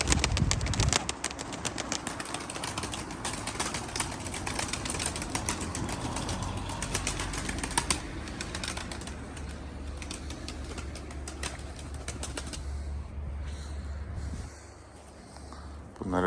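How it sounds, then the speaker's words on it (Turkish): Pigeon wings flap in a rapid, continuous fluttering clatter for several seconds, close and busy, with soft cooing and distant noise underneath. "Ama kanat sesine bak ya."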